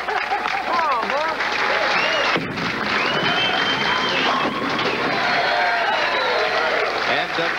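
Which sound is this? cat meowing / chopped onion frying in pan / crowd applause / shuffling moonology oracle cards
crowd applause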